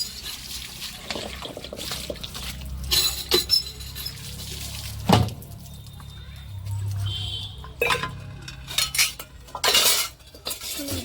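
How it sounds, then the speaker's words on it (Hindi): Dishes being washed by hand at home, with metal pots, utensils and glassware clinking and clattering irregularly alongside trickling water, close and fairly loud, with someone talking intermittently. "मम्मी बर्तन मांज लिया और धो रही है।"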